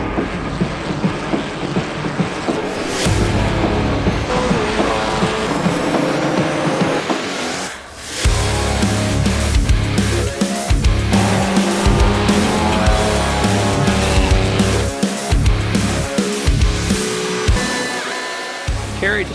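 Trans Am and SVRA race cars run at the Mid-Ohio circuit during the Speed Tour, engines roaring loudly and continuously with a brief dip as cars pass, under people talking.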